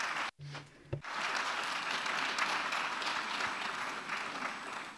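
Steady applause from an audience at a conference panel on disinformation and conflicts, loud and sustained for about four seconds after a brief spoken word and a short pause.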